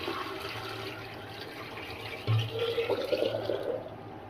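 Water poured into a container while making homemade salted eggs, a short splashing fill that swells midway and trickles on, close and fairly quiet.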